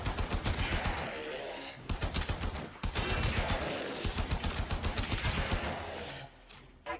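Rapid automatic gunfire from a primary weapon in the sci-fi shooter Warframe, loud dense bursts of shots with brief pauses between volleys, continuing almost without break.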